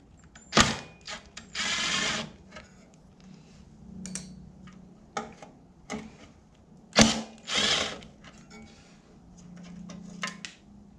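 A small ratcheting wrench backs screws out of a 1970 Dodge D100 heater box, giving short bursts of quick clicking separated by pauses and light handling noises, fairly close and with no talking.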